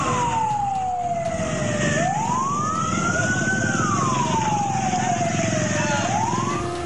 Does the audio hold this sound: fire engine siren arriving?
yes